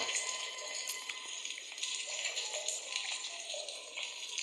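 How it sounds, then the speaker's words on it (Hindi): Water pours steadily from above into a drain in the horror game Granny Chapter 2, a continuous close hiss and splash with no talking. "देखिए नाली में पानी गिर रहा है ऊपर से।"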